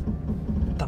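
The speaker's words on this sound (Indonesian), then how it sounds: "Tapi itu adalah bunyi ABS." A low mechanical grinding buzz with rapid creaking pulses from the ABS pump of a 2024 Subaru Crosstrek off-road, steady throughout, close up, ending in a brief brighter burst.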